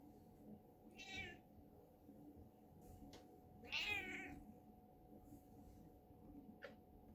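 A pet cat meows twice in a quiet home, two clear cries spaced a few seconds apart, with a faint low hum beneath.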